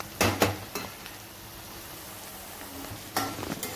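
Onions fry in a pan with a steady soft sizzle, broken by a few sharp clanks of a utensil stirring against the pan at the start and end.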